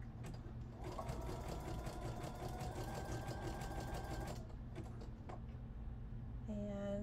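A sewing machine runs zigzag stitches through fabric for a scarf-to-pants project, giving a loud, fast, steady rattling run that stops, then a few short bursts follow.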